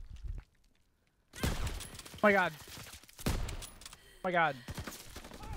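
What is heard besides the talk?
gunfire from a gun in a video game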